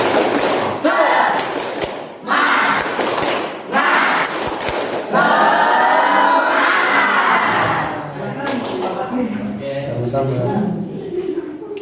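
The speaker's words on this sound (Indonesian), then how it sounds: "Tepuk semangat" A school class performs the tepuk semangat clapping chant together, with rhythmic bursts of group clapping and shouted chanting in a classroom, broken by short pauses between loud phrases.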